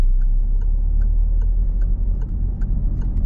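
A car's turn-signal indicator ticks at a steady, even pace during a driving lesson as the car pulls out. The ticks sit over a constant low engine hum, with no talk.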